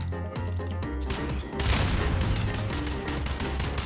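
Dense, continuous gunfire in a battle royale video game, rapid overlapping shots in a sustained loud fusillade that swells after a brief dip, with a voice faintly mixed in.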